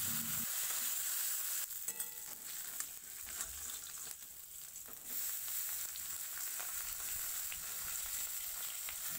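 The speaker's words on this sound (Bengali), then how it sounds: "তেল ভালোভাবে গরম হয়ে গেছে, চারিদিকে ছড়িয়ে দেব আর নুন হলুদ মাখানো মাছগুলো দিয়ে দেব।" Salt- and turmeric-coated sea fish frying in hot oil in a wok, giving a steady close sizzle with brief clinks and stirring noises, and no talking.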